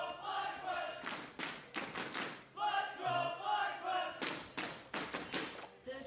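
A live esports arena crowd at a League of Legends LCS match cheers and roars in repeated surging bursts, with thumping hits and chanting rising and falling over several seconds.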